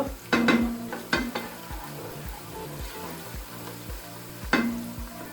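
Tomato paste frying in olive oil as the base for green beans cooked in olive oil. A bright, continuous sizzle is heard up close, with occasional sharp stirring scrapes and soft bumps of the spoon.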